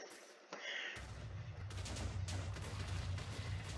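A large Minecraft explosion bursts in after a short quiet lead-in, turning into a loud, rumbling, crackling roar of repeated blasts that continues to the end.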